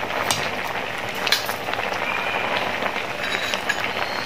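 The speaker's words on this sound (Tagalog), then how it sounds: "Habang kumukulo siya" Crab in coconut milk stew with banana blossom bubbling in a pot, a dense close hiss of boiling with scattered pops and crackles throughout, no speech.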